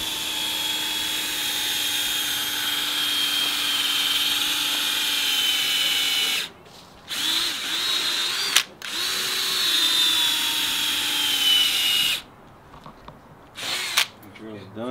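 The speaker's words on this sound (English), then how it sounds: "The drill's done. It's getting tired." A power drill whines loudly and continuously in a garage paint-booth setting, briefly pausing twice before running again and then stopping, with a few soft knocks after.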